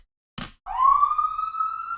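A police siren wails outside, rising sharply after a brief rustle, then holding a loud, steady tone.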